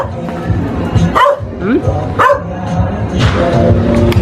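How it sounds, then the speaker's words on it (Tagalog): Several dogs bark and yip in short bursts close by, with people talking over and between the barks. "Ingay ng mga aso"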